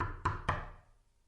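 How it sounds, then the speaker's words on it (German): Two gentle, evenly spaced knocks on a door, close and clear, each with a short resonant decay before quiet. "Die Luna hat vorsichtig an die Tür geklopft."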